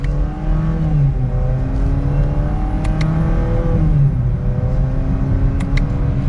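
A 2022 Chevrolet Camaro 1LT accelerates mildly on a back road, heard from inside as a loud, smooth engine drone rising in pitch through a gear change, with brief tire or road noise.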